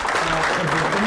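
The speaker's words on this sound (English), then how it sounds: "Another round of applause." Symposium audience applauding in a hall, a short burst of clapping with a voice or tonal hum running underneath.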